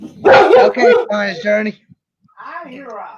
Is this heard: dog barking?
yes